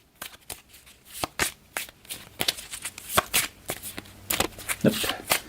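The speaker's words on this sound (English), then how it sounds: "We'll give this a shuffle." A deck of referee cards is riffled and shuffled by hand up close, making a run of crisp, rapid card snaps and flutters in uneven bursts.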